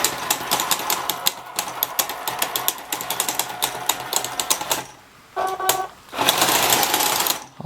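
A Ripsaw EV2 RC tracked vehicle fitted with metal tracks climbs and slips, giving a fast, busy mechanical clatter with a whirring motor. It drops out briefly near the end, then returns in short and sustained bursts.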